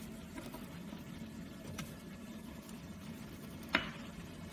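A spin coater's small electric motor revolves on a bench, a faint, steady low hum throughout, broken by a soft click near the end.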